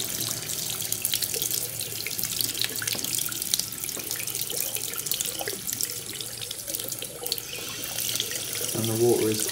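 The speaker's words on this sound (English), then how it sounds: "Do you mind if I just use the tap?" Hot water runs from a household tap into a sink, a steady close splashing stream with faint voices in the background and a small clatter near the end.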